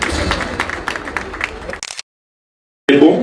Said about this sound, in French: on peut applaudir pour Migra